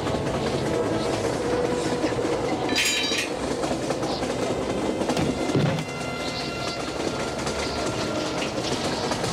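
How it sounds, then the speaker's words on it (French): A runaway freight train barrels along the rails at very high speed, a loud continuous roar of wheels and cars with rhythmic clatter and a brief metallic squeal partway through. "malgré les efforts remarquables de John Seeger, le train atomique continue sa course à très vive allure."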